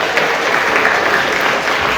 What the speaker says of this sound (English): Let's give her a applause anyway.